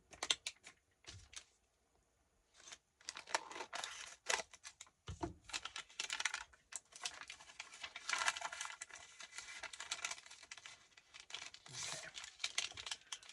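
Scissors trim the edge of a sheet of paper for a vintage-style journal, a series of close, quiet snips and paper rustles with short pauses between cuts.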